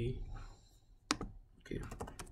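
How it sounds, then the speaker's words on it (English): Quiet, close clicking of keys on a computer keyboard comes in short bursts, with a brief pause between them as a command is typed at a Windows command prompt. "I'll be typing RoboCopy"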